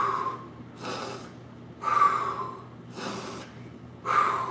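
Heavy, rhythmic breathing during exercise reps: forceful exhales and gasps come in roughly four bursts about a second apart, close and moderately loud, with no talking.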